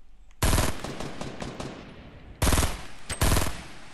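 Bursts of automatic gunfire in Fortnite Battle Royale: a long loud volley, then two shorter close blasts separated by a brief pause, with no talking.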